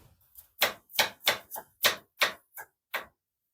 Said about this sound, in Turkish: Arkadaşlar sosumuz için öncelikle bir diş sarımsağımızı doğrayacağız.